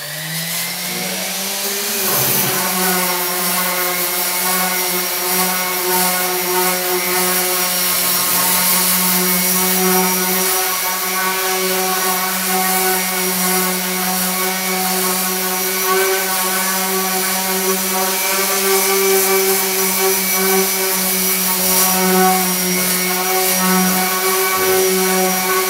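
An electric sander works on an old end table in a garage, giving a loud, steady high-pitched whine that starts up within the first seconds and runs on without a break.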